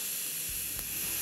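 Steam hissing from a pressure cooker as its pressure is let out in a kitchen, a steady, bright broadband hiss lasting the whole short moment at even loudness.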